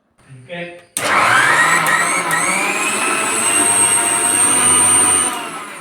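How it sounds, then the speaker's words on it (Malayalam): A brief voice is followed by a mixer grinder roaring to life, extracting coconut milk with water, whirring loudly and steadily before starting to wind down. "മിക്സിയിൽ ഒന്ന് കറക്കി പാല് പിഴിഞ്ഞെടുക്കണം"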